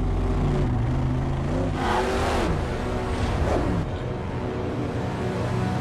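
Engines roar and rev in a Mad Max Furiosa car chase, with vehicles accelerating and sweeping past close by, the loud motor noise continuous for the whole stretch with no voices.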